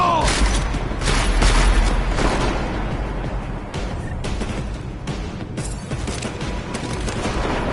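Dense gunfire in Deus Ex Mankind Divided fills the scene continuously, with booming shots and crackling bursts layered over a constant loud din, heaviest in the first few seconds.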